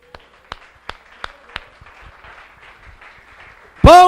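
A congregation at a church service gives applause: several loud distinct claps at first, then a softer scattered patter, ending with a sudden loud burst.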